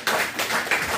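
Audience applause at a church gathering: a short burst of several close, sharp hand claps in an uneven rhythm, loud against otherwise quiet surroundings.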